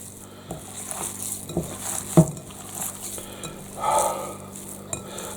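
Hands squelch and squish a garlic and onion marinade over ribs in a bowl, soft wet mixing sounds close up with an occasional clink of a dish, no talking.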